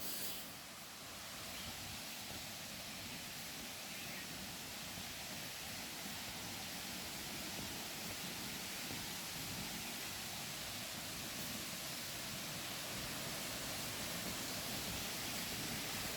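A waterfall in a garden full of trees pours continuously as a steady, even broadband rush, moderately distant and unbroken throughout.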